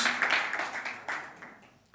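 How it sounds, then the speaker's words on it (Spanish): Church congregation applauding during a sermon: a short burst of claps that fades away over about two seconds, fairly close and unaccompanied by talk. "Dale un aplauso al Señor"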